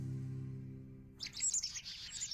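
Birds chirp and trill in quick bursts after a brief low hum, the bright calls overlapping and fairly close.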